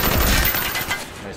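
Gunfire in a first-person shooter video game match, a short loud burst of rapid shots.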